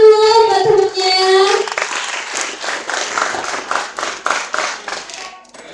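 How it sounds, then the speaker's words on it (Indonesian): A student's peers at a health polytechnic orientation event break into clapping, beginning just after a voice and swelling into steady, dense applause that rolls on for several seconds before tapering off. "Oke, ini beri tepuk tangan dulu buat temennya."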